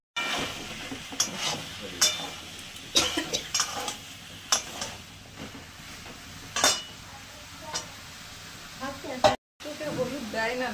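Bay leaves, poppy seed paste, white sesame and ginger paste hiss and sizzle in hot tempering oil for a Bengali bottle gourd shukto, with steady frying crackle broken by repeated scraping stirs and a brief cough.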